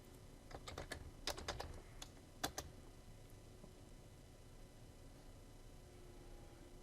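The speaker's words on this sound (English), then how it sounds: "type in the earliest date you want to see, and then hit the Enter key to set that date range" Light plastic keys on a computer keyboard tapped in short bursts of quick clicks, a firmer press like an Enter key standing out near the middle, then quiet room tone with no voices.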